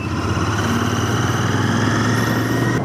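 A motorcycle engine drones steadily while the bike is ridden on a long road trip from Manali to Jaipur. The hum is continuous and close, with road and wind noise and no voices.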